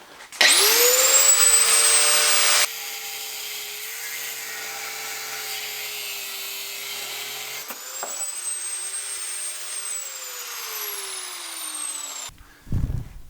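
Power saw cutting vertically down a piece of wood, a loud steady whine that holds for a couple of seconds, then drops to a lower sustained drone and winds down near the end.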